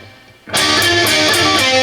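A distorted electric guitar plays a riff with double pull-offs: after a brief near-silent start, a loud, gritty burst of overdriven notes rings out with quick, repeated picked attacks.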